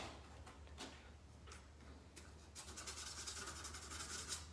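Metal being sanded by hand with 220 grit sandpaper in a single direction, faint close rasping strokes that repeat and grow quicker and denser toward the end.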